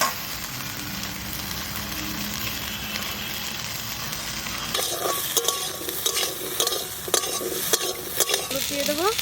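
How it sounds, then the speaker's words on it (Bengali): Green jackfruit fries in a pan with chilli for a country chicken curry, a dense continuous sizzle that turns into a spatula scraping and knocking against the pan in the second half, close and steady, no talk. "একটু ভেজে তুলে নেবো।"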